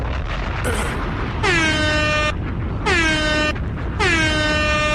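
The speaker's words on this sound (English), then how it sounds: "going to do 6 air horn blasts for the French." Three long, loud air horn blasts, each a sustained blaring tone with a pitch that dips at the start, separated by short gaps.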